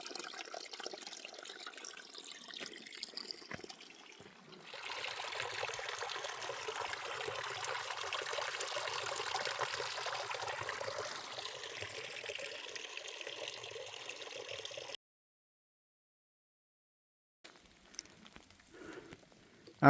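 A trail water source on the Appalachian Trail trickles and splashes steadily, loud and close, before cutting to near silence with faint sound returning at the end.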